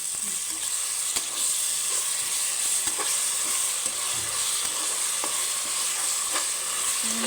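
Ginger garlic paste sizzles and fries in a pan for biryani, with a steady bright hiss and occasional stirring scrapes, close and continuous with no voices.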